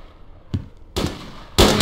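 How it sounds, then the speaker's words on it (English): An M249 machine gun fires in the distance during a battle, heard as a sharp single report followed by two harsh bursts of rapid fire, loud and raw against a low background. "Machine gun."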